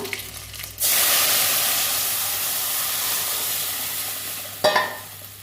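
Dried red and green chillies hit hot mustard oil and are stirred into dal. A loud sizzle bursts in suddenly, then settles into a sustained hiss, and a second sharp spurt of spitting comes near the end.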